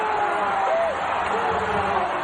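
Crowd noise at a Toronto basketball game, a steady dense roar of cheering heard at a distance, loud and continuous with some talk over it.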